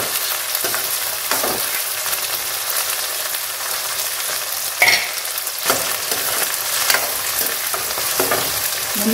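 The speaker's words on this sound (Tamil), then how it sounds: "தக்காளி கொஞ்சம் நேரம் வதங்கட்டும்" Tomatoes sautéing in a pan for a village fish curry, a loud continuous sizzle and crackle of hot oil with occasional scrapes and clinks of a spatula stirring.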